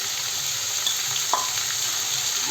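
Cucumber sabzi with red chilli and salt sizzling steadily in a pan while a spoon stirs it, with one brief clink of utensil against the pan, and no talk.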